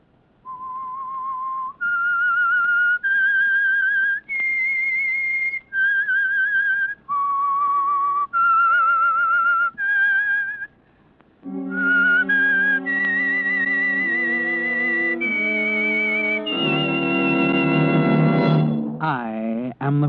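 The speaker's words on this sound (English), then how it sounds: "That whistle is your signal for the Signal Oil program" A person whistles a slow, eerie melody in clear separate notes as the opening signal of an old mystery radio drama, then an orchestra swells in with sustained chords beneath the tune.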